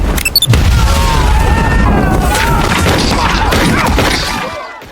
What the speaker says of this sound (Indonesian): Adam meledakkan bom yang telah ia pasang